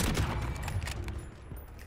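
Close, loud gunfire rattles through a Call of Duty Modern Warfare match, a dense volley of overlapping shots and crackling reports that stays steady before easing slightly.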